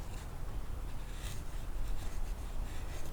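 A heavy Spanish-made Hydra Esus bushcraft knife shaves thin curls from wood, giving a steady close rasping scrape that runs without pause.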